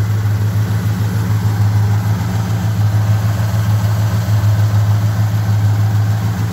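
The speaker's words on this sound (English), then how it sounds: "This truck starts good." A 1978 Chevy C10 pickup with a 350 engine idles steadily up close, a smooth, even low rumble running without pause and with no talk.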